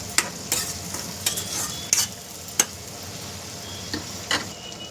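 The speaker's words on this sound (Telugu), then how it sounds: "పేస్ట్ చేసి పెట్టుకున్న ఆనియన్స్, అంతవరకు మగ్గించుకుందాం." Onion paste cooks in a pan for an Andhra-style fish curry as a soft sizzle runs underneath while a spatula scrapes and clicks sharply several times at an uneven pace, near and distinct.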